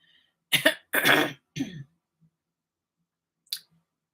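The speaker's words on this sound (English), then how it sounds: "I need a good cough." A few harsh coughs close to the mic, two quick ones then a longer burst, followed by a fainter short cough after a pause.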